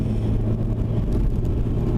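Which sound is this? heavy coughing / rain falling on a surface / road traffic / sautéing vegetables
road traffic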